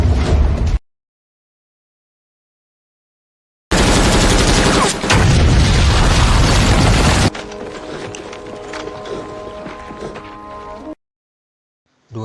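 Loud gunfire and a blast in a war film about American and Chinese snipers, a dense roaring burst between stretches of silence, then a quieter rumbling tail.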